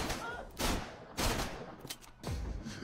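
Several loud bursts of gunfire crack out at short intervals, each a broad sharp blast with a brief echoing tail.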